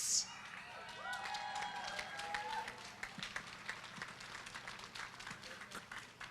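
An audience applauds a third-place winner at a live mic contest, a steady wash of clapping and some cheering from a crowd, moderately distant and fading slowly.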